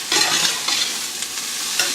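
Tofu sautéing in a pan while being stirred, a steady close sizzle with scraping and brief swells, no talk.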